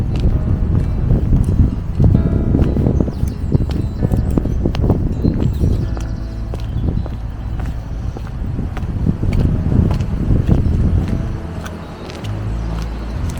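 Strong gusty wind buffets the microphone with loud, rumbling low roars that rise and fall throughout, in the churchyard of St Mary the Virgin, Broxted, Essex.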